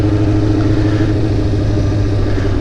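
Motorcycle engine running steadily while riding through a residential neighborhood, a continuous low rumble held at an even level throughout, with no voices.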